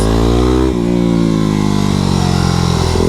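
A Yamaha WR250X supermoto revs hard on a race track, its loud, close engine note climbing steadily in pitch, dropping briefly as it shifts, then climbing again, with no talk.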